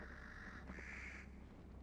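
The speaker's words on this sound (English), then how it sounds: "I hear crows." Crows caw in the horror video game Don't Scream, a couple of calls standing out over a steady ambient game background with no talking.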